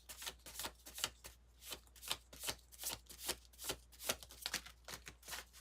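Rapid riffling bursts of playing cards being shuffled, repeated about a dozen times in a steady rhythm, close and crisp with no talking.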